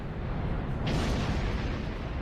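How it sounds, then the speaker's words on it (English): Explosions in the space combat game Star Trek Online, a low rumbling blast with a burst of noise in the middle over continuous heavy game rumble. "Make some more explosions so everybody knows I'm here."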